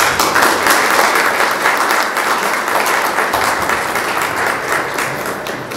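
Sustained applause from an audience at a national symposium in Bacău, Romania: dense, steady clapping throughout, loud and close, gradually easing slightly toward the end.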